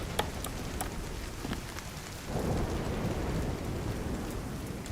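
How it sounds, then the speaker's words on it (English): Steady rain pours in a stormy scene from The Division 2, with a rumble of thunder swelling midway and continuing under the downpour; no voices. "It's raining."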